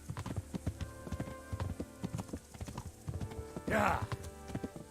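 Horse hooves clip-clop in a steady rhythm while riding in the medieval game Kingdom Come Deliverance, with a brief louder burst near the end and a voice talking over the hoofbeats.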